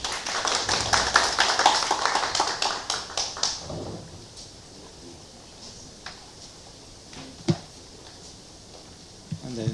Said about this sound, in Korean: 여러분 큰 박수로 맞이하겠습니다.